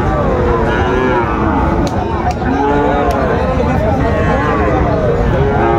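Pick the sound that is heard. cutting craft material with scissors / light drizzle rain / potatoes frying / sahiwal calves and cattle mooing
sahiwal calves and cattle mooing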